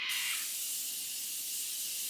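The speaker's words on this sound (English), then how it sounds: "I'll spray your face." A fine makeup setting spray misted onto a face: one steady, close hiss that lasts about two seconds, with no talking.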